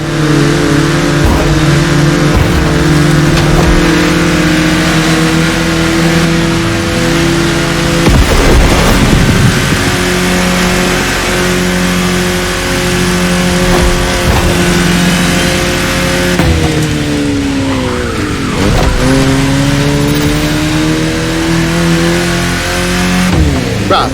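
A car driven in The Crew Motorfest racing video game holds a steady engine drone that swells and dips as it revs, a continuous loud hum with shifting pitch throughout.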